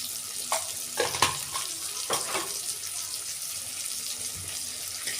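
Sliced onion with black pepper fries in a pan, giving a steady sizzle throughout, with a few sharp clatters and stirring scrapes near the start.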